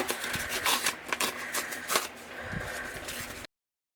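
Loose extra paper being pulled and torn away from a fabric junk journal cover, giving a steady run of close, crisp rustling and crinkling with a few sharper rips, then silence near the end.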